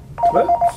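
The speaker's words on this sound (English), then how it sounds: "That's the phone ringing." A telephone rings during a staged office sales call: short pulsing electronic tones, close and fairly loud, lasting under a second, with a brief spoken exclamation.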